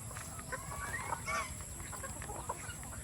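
Free-range farm chickens cluck softly in short scattered calls, close by in an old chicken house, over a low steady background hum, with no talking.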